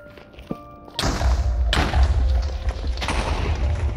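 Explosions in the Nether of Minecraft, a small tap followed by two loud booming blasts about a second apart, each trailing into a dense low rumble of debris.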